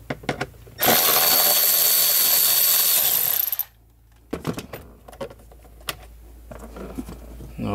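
Power tool buzzes loudly for about three seconds while undoing a fastener on the blower motor cover of a 2015 Mercedes/Dodge Sprinter 3.0L, followed by scattered clicks and handling clatter.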